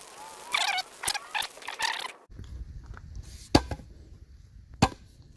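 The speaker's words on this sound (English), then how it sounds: "tamp it 1 more time, focus around the edges, especially the center too" A small hand tamper compacts a water-activated asphalt patch, giving several sharp thuds and chopping impacts, first in a quick cluster of strikes, then two isolated louder blows after a pause.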